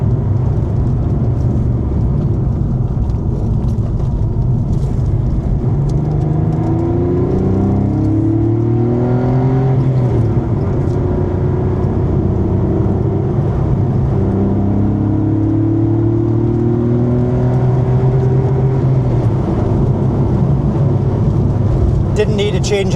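A Porsche 964 engine with 376,000 miles hums and rises in pitch as it accelerates through the gears, steady cabin drone throughout, with someone talking over it.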